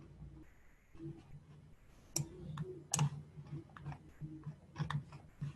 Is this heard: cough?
no